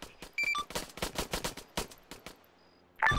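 Video game gunfire in a tactical police shooter: a rapid string of sharp shots at moderate volume, then a brief lull before another burst near the end.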